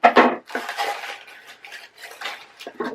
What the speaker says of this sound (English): I'm going to pull out my crafting shears once again, and I'm just going to cut little bits of foam